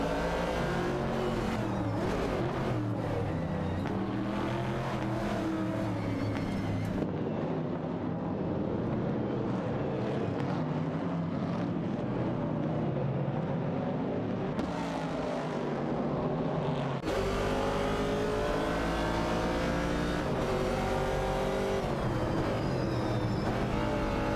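Race cars, among them Dodge Darts and a 1969 Chevrolet Camaro, in an AI racing video game: continuous engine roar with rising and falling revs and passing whooshes, loud and steady throughout, with no voices.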